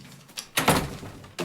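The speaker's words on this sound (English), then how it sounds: "Shut the door." A door swings closed with a single solid thud and a brief rattle, close by, with faint room noise before and after.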